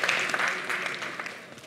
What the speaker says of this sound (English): People will clap for you.